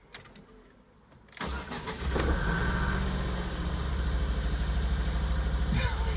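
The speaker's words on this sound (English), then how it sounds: "Start the engine." A Ford Focus ST170 engine cranks and catches after a quiet start, then settles into a loud, steady, uneven idle with a misfire, close to the microphone.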